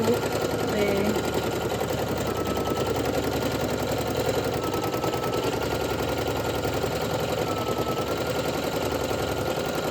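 An embroidery machine stitching an appliqué outline on a baby onesie gives a steady, fast mechanical whir and rapid needle clatter, continuous and close, with a person talking over it.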